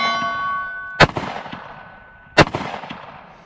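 Two sharp, loud 9mm shots from a Kimber Micro 9 pistol fired at silhouette targets on a range, spaced about a second and a half apart with a short echoing decay, close and with no talking.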